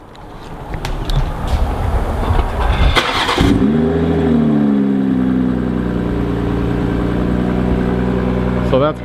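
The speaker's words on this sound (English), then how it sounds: "So that's completely stock exhaust." A BMW M340i with stock exhaust starts up: the starter whirs, the engine catches with a loud flare of revs, then it settles into a steady, deep idle close by.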